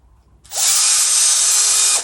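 Power drill boring into a wall to set dowels for hanging acoustic panels in a home music studio; one loud, steady whine starts after a brief quiet moment and runs on unbroken, close up, with no talking.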